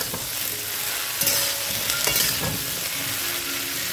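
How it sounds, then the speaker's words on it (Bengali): Water lily stems fry over a high flame, hissing in a steady sizzle while a utensil scrapes and stirs through them with a few distinct strokes, all close by. "তো শাপলাটাকে আমি 2-3 মিনিট একটু নাড়াচাড়া করে নেব।"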